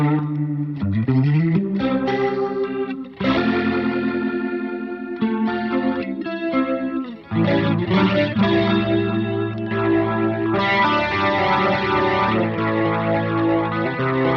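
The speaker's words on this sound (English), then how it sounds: "The main way is, you know, pretty much like a stock Leslie" An electric guitar played through a Leslie-style rotary speaker pedal with a Minstrel pedal ahead of it rings out in chords and melodic phrases, swirling with chorus-like modulation and a touch of drive, clear and upfront with no talking.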